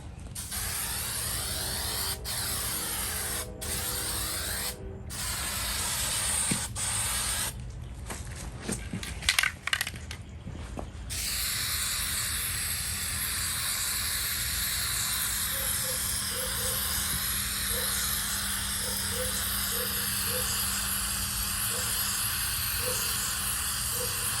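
Aerosol spray paint cans, each shaken 150 times, hiss in a steady sustained spray while a light coat goes onto old barn-sale tool boxes, after a few clicks and rattles at the start; close and fairly loud, no talk.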